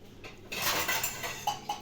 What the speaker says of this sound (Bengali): তাড়াতাড়ি ভেতর থেকে প্লেট বার করো।